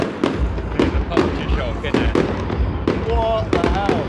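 Fireworks are set off outside a tent in the mountains at night, repeated sharp pops and bangs in quick irregular succession, heard from a short distance, with a faint whistling tone near the end.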